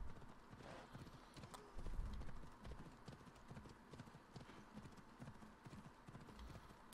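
The horse Phobos gallops in Assassin's Creed Odyssey, its hooves beating a steady clip-clop at moderate volume under game ambience, with a short whinny-like swell partway through and no talking.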